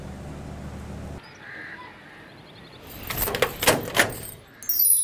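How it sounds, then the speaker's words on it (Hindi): A house door being opened as someone arrives, heard as a few close, sharp clunks and rattles over a couple of seconds in an otherwise quiet room, with no talking. "दरवाजा खोलो।"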